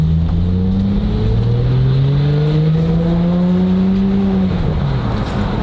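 A Porsche 997 Carrera 4S with a Fabspeed full exhaust accelerates hard, its engine note rising steadily in pitch through a long pull before easing off near the end, loud and close from inside the car.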